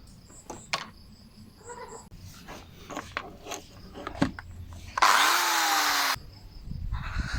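A power drill bores holes in recycled material for a handmade woven shelf, giving a loud, sustained whine for about a second amid scattered clicks and handling noises.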